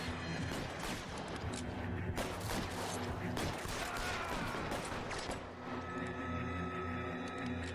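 Gunfire in the video game L.A. Noire, a dense, continuous crackle of shots and mechanical clatter filling the scene at moderate level, with a voice speaking faintly underneath.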